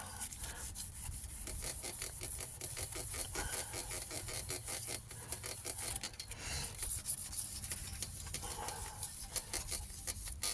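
Continuous rubbing and scrubbing of a cloth wiping black road grime off a Kawasaki GPZ500S motorcycle part, a steady close rasping with rhythmic strokes and no talking.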